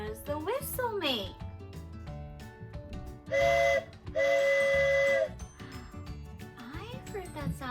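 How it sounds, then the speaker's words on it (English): A handheld toy train whistle blown twice in short, loud, steady blasts, the second longer, between children's-program talk and background music. "I've got a special whistle here today"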